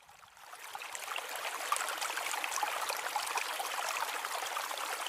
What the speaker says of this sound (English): The next one is the water.